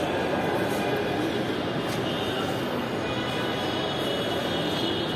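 A metro train pulls into a platform in Dhaka, a broad steady rumble and roar that fills the space continuously, loud and close, with faint voices in the background.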